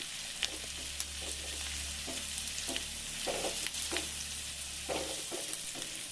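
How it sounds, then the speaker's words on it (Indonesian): Onion and chopped garlic sauté in a hot pan with a steady, close sizzle and bursts of stirring scrapes, while a low hum runs underneath. "Kita tumis sampai bawang bombaynya harum dan juga sedikit layu"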